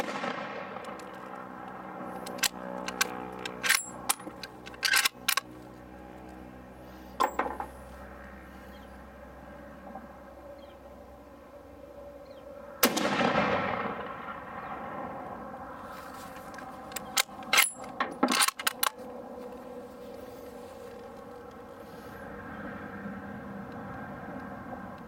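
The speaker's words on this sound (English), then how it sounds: "here's a few more rounds of 7mm Rem Mag here" 7mm Remington Magnum rounds are fired outdoors at steel disc brakes as single sharp reports scattered through the stretch, each followed by a ringing echo. A few shots come in quick pairs, and one long sweeping whoosh sounds in the middle.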